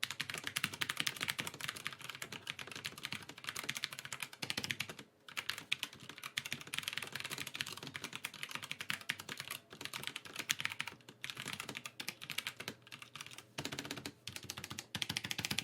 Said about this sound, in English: take a listen to this nice, relaxing keyboard ASMR